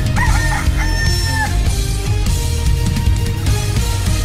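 Roosters and chickens crowing loudly close by, several rising crows in a row over a steady busy background with clucking.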